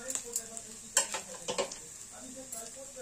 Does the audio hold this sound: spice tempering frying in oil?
yes